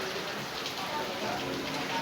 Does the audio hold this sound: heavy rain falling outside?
yes